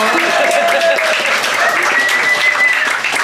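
Audience at a comedy open mic aboard the JoCo Cruise 2025 applauding loudly and steadily, dense clapping filling the room throughout with a few tonal whistles or cheers rising above it.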